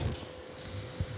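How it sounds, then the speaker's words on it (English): A stage smoke machine gives off a steady, close hiss of spraying smoke that lasts for about a second, with a faint low hum underneath. "Steve, if you could spray some smoke for me."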